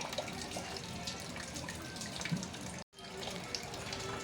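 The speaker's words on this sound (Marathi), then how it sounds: "गळताय तर समोर भरपूर आम्ही बादल्या लावले बघा हे बघा पाणी" Rainwater leaking through a roof pours and drips into buckets set out below, a steady close splashing and trickling that cuts out briefly before resuming.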